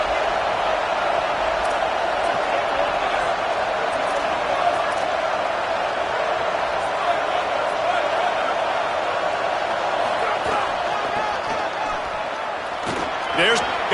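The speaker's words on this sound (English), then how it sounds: "The crowd getting behind this defense as they try to get a stop in the red zone." A stadium crowd roars steadily in a Madden football video game as the defense tries to hold in the red zone, a dense, sustained wall of cheering with occasional sharper claps and thuds near the end.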